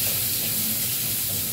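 Onion sizzling in hot oil for an escabeche sea bass, a steady close, soft frying hiss with no talk over it.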